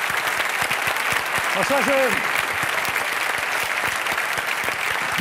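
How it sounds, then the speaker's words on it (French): A studio audience on a French TV game show applauds steadily throughout, with a man's greeting spoken briefly over the clapping. "Je vous demande d'applaudir, bien sûr,"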